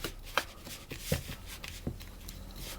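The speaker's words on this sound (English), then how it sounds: "I'm going to add in my crystallised ginger, and I'm going to just break that up and stir it around." Crystallised ginger being broken up and stirred into shortbread dough: a few soft, close crunches and thuds among quiet scraping and shuffling, with no voices.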